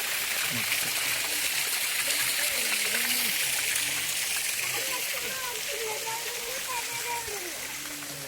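Water of the Paladhara Panchadhara stream at Srisailam in the Nallamala forest rushes as a steady, even wash, with someone talking over it throughout.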